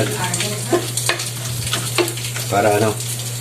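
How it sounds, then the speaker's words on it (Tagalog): Dried anchovies (dilis) fry in a pan with a steady oily crackle, broken by several louder scraping stirs of the spatula and a constant low hum underneath. "lutuin na natin ang ating dilis"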